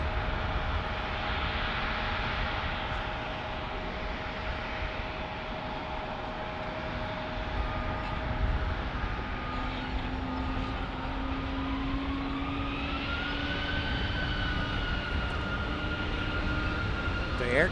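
A jet airliner in Air Canada Jazz livery rolls past with a steady, broad engine roar that holds loud and even throughout, its whine rising in pitch partway through.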